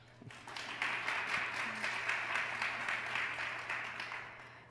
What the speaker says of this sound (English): It's very hard to clap a wine glass.